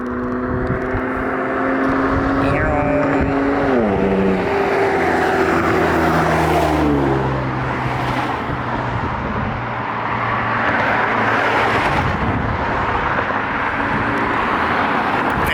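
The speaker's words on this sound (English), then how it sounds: "These are a group of cars. I think they're racing." Several cars race along a street, their engines roaring loud and close with rising and falling revs and gear changes sweeping past, a steady dense engine noise throughout.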